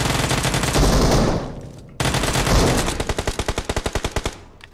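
Sustained automatic gunfire from bots in the mobile battle royale game PUBG Mobile, loud and close, ending in a rapid, evenly spaced string of individual shots that fade toward the end.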